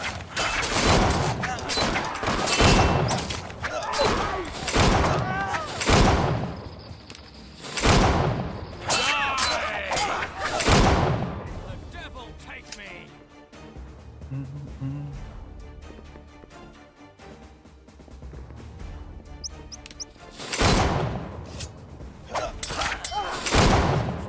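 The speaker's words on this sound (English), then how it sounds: "Why are they still shooting here?" Gunfire in the Caribbean Legend video game: loud, irregular shots and heavy thuds crack out repeatedly, with some mechanical clatter between them and a quieter stretch in the middle.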